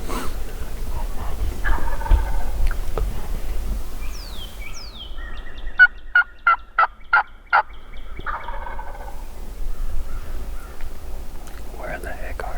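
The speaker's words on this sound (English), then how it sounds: "Have you been keeping count of the gobbles?" Wild turkey gobbling in the woods on public land, a rapid rattling gobble ringing out clearly through the middle, with quiet whispered talk before and after.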